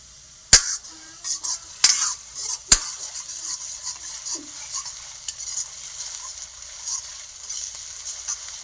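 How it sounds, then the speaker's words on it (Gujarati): Undhiyu, a mixed vegetable dish, stirred in a pan with a few sharp scrapes of the spoon at the start, then a quiet steady sizzle with scattered light clicks. "આપણે આ ધીમે ધીમે હલાવતું રહેવાનું છે એટલે બળી ન જાય"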